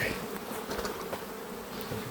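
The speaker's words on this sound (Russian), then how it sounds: "Пчела работает" Steady, dense buzzing of many honey bees close by at an open hive in poor weather, with some smoking, a continuous drone with no voices.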